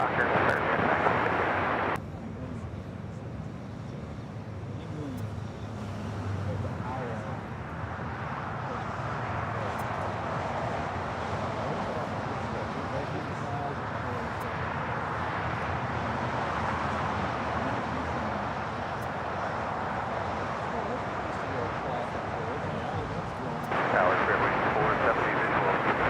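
An airliner takes off from runway 25 right at Los Angeles International Airport, a sustained broad engine roar lasting the whole stretch, rising slightly at the end, with speech heard over it.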